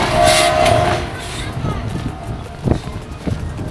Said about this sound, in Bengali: ওই যে সাউন্ড যাচ্ছে এখান থেকে, ট্রেন একটা শান্টিং হচ্ছে দেখা যাচ্ছে।